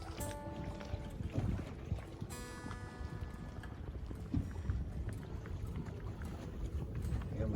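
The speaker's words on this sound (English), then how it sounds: "And we got some wind." Wind blows while a Nordica 16 sailboat is under way: a steady, close rushing roar against the microphone mixed with water and boat noise, and faint voices briefly audible.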